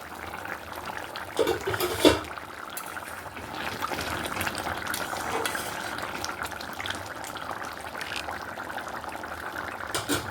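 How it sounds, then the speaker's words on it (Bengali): Water boils steadily in a covered pot for a fish curry, making a continuous close bubbling hiss with a few louder bumps of utensils near the start and no talking. "ফুটে গেছে।"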